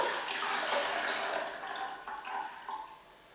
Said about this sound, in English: I'm just going to sieve it all the way through here.